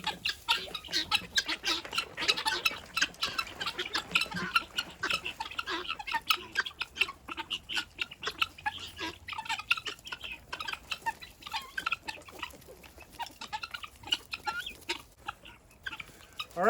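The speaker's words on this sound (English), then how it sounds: "So now let's give some chickens and guineas their treats." Chickens and guinea fowl cluck and squawk continuously at a farmyard during feeding time, a busy layered chorus of sharp calls and chatter, moderately close with no speech.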